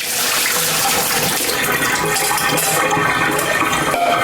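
Water pours steadily over cut potato fries in a bowl to cover them for soaking, a continuous close splashing and running-water wash that lasts throughout with no talk.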